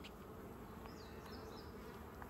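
A honey bee colony hums during a hive inspection: a steady, close, quiet drone of many bees with a few individual bees whining past nearer by.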